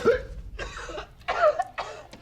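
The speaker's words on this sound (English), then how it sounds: "Coughing up blood now?" Four short, harsh coughs, a person coughing up blood, in an uneven rhythm, close by and fairly quiet, with brief pauses between each spasm.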